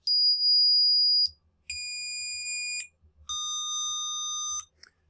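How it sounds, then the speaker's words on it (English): Square-wave tones from a small speaker driven by a microcontroller: three loud, harsh, steady beeps of about a second each at different pitches, separated by short gaps, with no talking. "Now if I take a speaker, I can convert that to a square wave, or to a sound."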